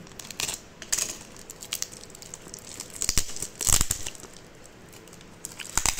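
Plastic packaging crinkles and tears while a spiral car horn cable is unboxed, with scattered close rustles and a few sharper rips between quieter handling.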